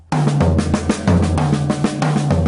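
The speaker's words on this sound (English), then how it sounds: "Now I'm going to go down the set and up the set." Drummer plays a fill descending around the tom-toms from high to low, then climbing back up low to high, in eighth-note triplets: a steady run of loud, close, evenly spaced strikes with no talking.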